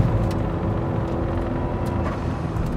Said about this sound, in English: I've got wheel spin over the crest there.